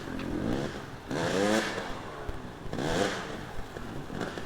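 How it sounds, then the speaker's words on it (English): A dirt bike engine revs and surges in two rising swells, with a rough, buzzy tone and wind rumble, loud and close as the rider pushes over uneven ground. "This dirt bike is not made for that."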